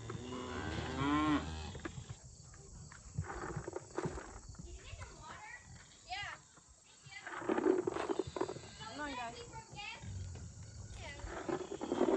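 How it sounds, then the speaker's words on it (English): Cattle, a Jersey Holstein cross among them, low and moo on a farm while feeding, with several deep calls spread across the clip amid rustling, footsteps and a person talking nearby. "while my cows are eating behind me"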